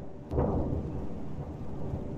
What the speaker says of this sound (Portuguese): Tá chovendo no fundo do mar, é? Você escutou o trovão?